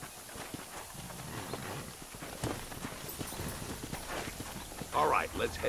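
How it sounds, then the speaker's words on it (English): Horse hooves clip-clop steadily in Red Dead Redemption, a close, even walking rhythm that continues under a voice and ambient game sound. "should be some horses for us across the way."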